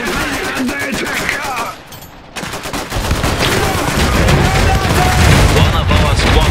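Battle gunfire in the dieselpunk strategy game Iron Harvest, rapid loud rifle and machine-gun bursts with booming impacts, a brief lull, then an even heavier continuous fusillade, with voices calling out over it.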